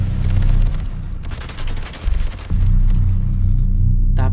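Gunfire in a film battle scene from The Purge: Anarchy comes as dense, loud volleys of rapid shots over a low rumble, briefly dipping before resuming.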